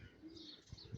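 Tumbler pigeons coo faintly in short low murmurs, with a couple of soft, close bursts near the end and a light chirp above them.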